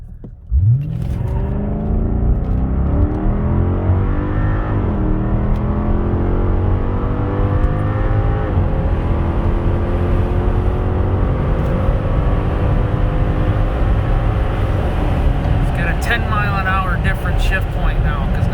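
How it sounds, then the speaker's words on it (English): A 2005 Cadillac STS V8 rear-wheel-drive sedan on new tires launches hard from 0 to 60, engine roaring up steadily through the gears in one long loud pull, heard from inside the cabin, with speech over it. "I want to see how fast this car gets up and goes, because it's got a different shift point"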